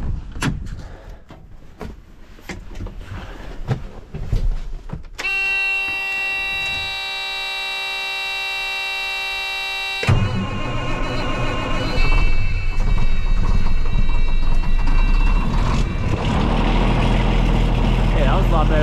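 A block-heater-warmed engine, plugged in overnight, starts after winter: a steady electronic tone sounds first, then the motor catches and settles into a loud, close, rumbling run.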